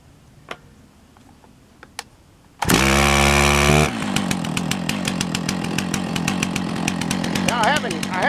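A chainsaw cutting nail-studded wood fires up with a loud burst and then settles into a steady, buzzing idle close by, after a few faint clicks and knocks.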